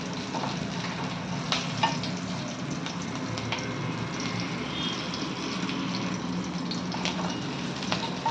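Garlic and chilli sautéing in a pan for veg hakka noodles, a steady close sizzle running throughout with a few faint spatula scrapes and clicks, no talking.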